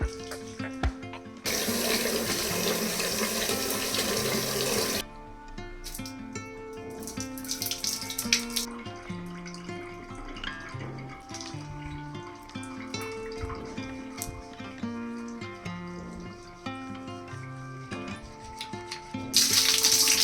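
A bathroom tap runs steadily on a winter morning before a shower, the water's continuous rush loud for a few seconds and then softer and more uneven, with drips and splashes against a faint tonal background.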